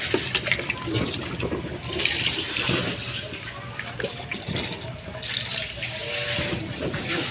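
Steady rush of running water draining away through a drain, loud and close, with a brief hiss of splashing partway through and no talking.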